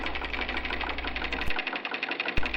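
A Singer 319W sewing machine converted to treadle drive with a coil spring belt runs steadily, its fast rhythmic needle clatter continuous and close, with a couple of brief thumps.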